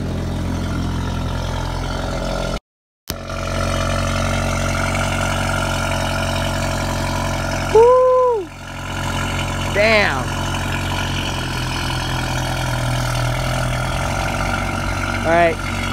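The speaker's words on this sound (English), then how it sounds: "that's pretty much how it sounds with a cold air intake" A 2015 Volkswagen CC fitted with a cold air intake, CTS turbo and catless downpipe idles steadily and fairly loud throughout, with a brief dropout early and a few short chirps and rising tones breaking over the engine drone.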